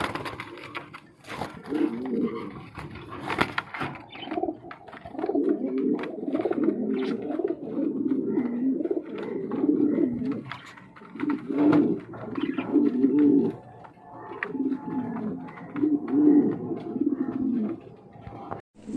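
Pigeons kept for sale, including King and black Serazi breeding pairs, coo continuously and close by in low, rolling bursts, with a few clicks and light shuffling between calls.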